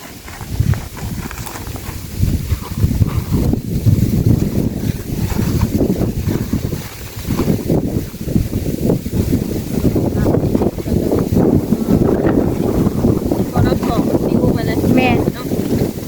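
Dry, cool wind gusting steadily across an open outdoor spot, a constant buffeting rush with low rumble against the microphone and someone talking over it throughout.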